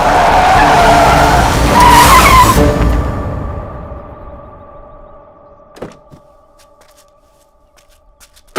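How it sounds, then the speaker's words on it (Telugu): A car races up and skids hard with loud tire squeal on a road, then the sound fades into quiet, broken by a few sharp knocks and thuds. "ఎదురు కారు వస్తుందమ్మా"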